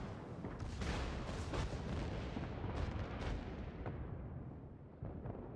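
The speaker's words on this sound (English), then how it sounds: "Your fucking secondary guns hurt so bad." Battleship secondary guns firing in World of Warships during a Yamato versus Kurfurst match, a dense rumbling barrage of overlapping booms and bursts that rolls on continuously at moderate volume.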